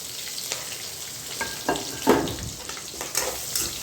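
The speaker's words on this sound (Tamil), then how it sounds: "3 சேர்த்து நல்லா வதக்கிக்கணும்." Onion, tomato and curry leaves sauté in oil with fennel seeds for a cauliflower dish, a soft sizzle broken by several sharp stirring scrapes and clatters.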